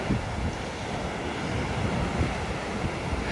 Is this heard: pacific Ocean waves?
yes